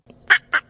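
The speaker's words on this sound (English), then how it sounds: "Duck." A duck gives two quick, loud nasal quacks close by, each short and sharp, with nothing else around them.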